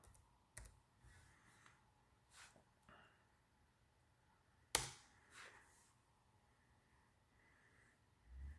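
Keystrokes on a computer keyboard as a search term is typed, a few scattered clicks and taps spread over several seconds, one sharper key strike midway, fairly faint against a quiet room.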